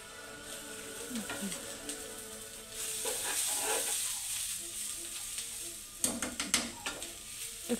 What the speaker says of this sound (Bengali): চালটা আমি একটু ভাজা করে নেব